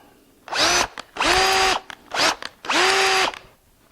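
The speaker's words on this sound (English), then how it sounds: "Kind of hard to take a screw out with a drill bit." A power drill removing a screw from wood whirs in four short bursts, rising and falling in pitch as it starts and stops, close up with no talking.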